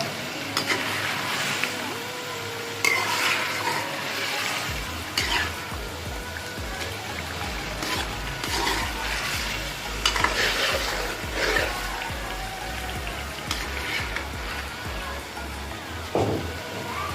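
Green chillies and ginger sizzle in a pan of chicken karahi, with a loud, continuous frying hiss and repeated scraping and clinking of a spoon stirring against the cooking pot.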